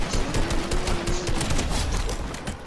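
A golden gun fires in rapid bursts in a shooter video game, a dense stream of loud, close gunshots filling the whole stretch.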